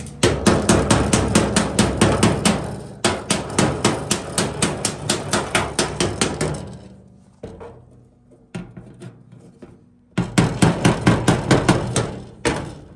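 Rapid metallic hammer blows ring out in quick bursts as sheet metal is hammered against a dolly held behind it, pausing briefly between runs, loud and close.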